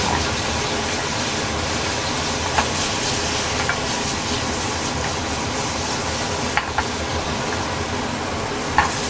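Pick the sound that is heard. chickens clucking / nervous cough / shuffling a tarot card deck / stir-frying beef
stir-frying beef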